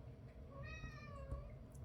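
A cat meows once, a clear rising-and-falling cry heard fairly close over a quiet indoor background, with no talking.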